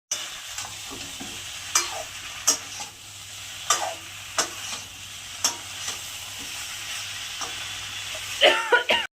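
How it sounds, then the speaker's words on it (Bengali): Drumstick stalks are stir-fried in a pan for shukto with a low, continuous sizzle. Repeated scraping strokes of a spatula sound at an irregular rhythm, with a faint steady hum beneath. "সজনে ডাঁটাগুলো একটু কষিয়ে নেবো।"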